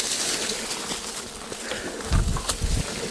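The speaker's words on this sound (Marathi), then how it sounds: "तुम्ही माशांचा आवाज ऐकू शकता." A honeybee swarm buzzes in a steady, hissy drone around someone cutting a branch holding a wild hive in a farm field, with a few brief rustles and bumps near the end and no talking.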